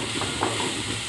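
Onion pieces frying in a pan with other ingredients, a short burst of soft steady sizzling close by, with one or two light stirring scrapes and no talking.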